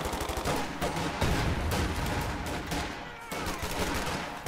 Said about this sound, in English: And start shooting them from the windows and stuff.